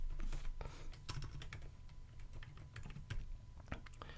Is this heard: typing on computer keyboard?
yes